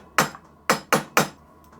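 Four sharp metallic taps seat a water pump pulley onto its shaft on an SNNC 521 engine, one tap then a quick run of three, close and distinct with no talk.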